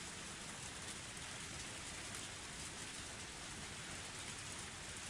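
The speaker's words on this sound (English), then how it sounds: "Only the sound of the pouring rain filled up the silence." Heavy pouring rain from a Higurashi visual novel makes a dense, steady hiss of drops drumming on surfaces, constant and enveloping with no voices.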